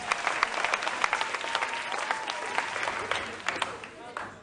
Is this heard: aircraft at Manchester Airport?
no